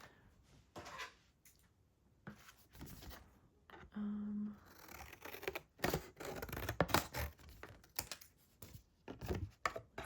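Scissors snip paper being cut down for a journal layout, a series of close, irregular crisp cuts and rustles with a brief hum partway through.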